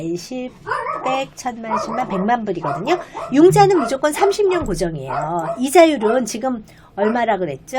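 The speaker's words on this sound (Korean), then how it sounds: "저희 강아지가 지금 누구 손님이 와서 저렇게 짖고 있습니다" At home, a pet dog barks and yips at a visiting guest, the bursts mixed in beneath nearly continuous talk.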